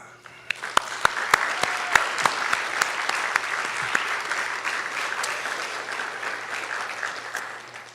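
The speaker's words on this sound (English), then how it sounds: "please join me in giving everyone one last round of applause" A large audience applauds at a senior awards ceremony at Cal Maritime, sustained clapping swelling from a few sharp early claps into a dense, steady round that fades near the end.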